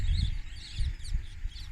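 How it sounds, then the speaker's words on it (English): Parrots call in short, scattered squawks and chirps over a low rumbling background hum, by rice fields in a village in Kuliyapitiya, Sri Lanka, with no one speaking. "there are like a bunch of parrots flying around"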